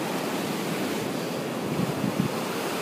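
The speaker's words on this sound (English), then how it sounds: "The waves are huge today." Large ocean waves break on a beach at low tide on a cold day, making a continuous, steady roar of surf with some wind noise and no voices.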